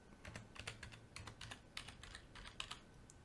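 Quick taps on an Android phone's touchscreen keyboard as a serial number and access code are entered, a rapid irregular run of close, light clicks with no speech.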